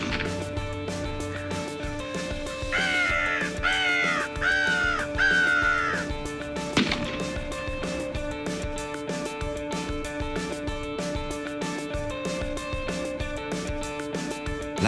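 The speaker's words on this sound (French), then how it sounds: "Normalement, lorsqu'on chasse au printemps, les corneilles nous avertissent. Avec leur cri, nous demandent la permission d'arriver" Crows caw in repeated harsh bursts during a spring crow hunt in Lanaudière, Québec, heard from a hunting blind at a tree line, with a sharp bang partway through and steady background ambience.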